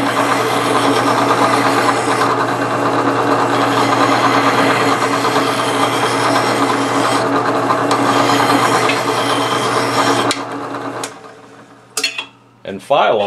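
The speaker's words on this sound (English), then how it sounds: "Turn the drill press on." A benchtop drill press runs steadily while a hand file works a bolt held against its spinning chuck, giving a constant mechanical hum with scraping. It cuts off near the end, leaving a few scattered clinks.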